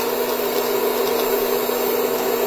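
Electric popcorn machine heating up with no kernels yet, giving a steady, fairly loud whirring hiss of fan and hot air that runs without a break.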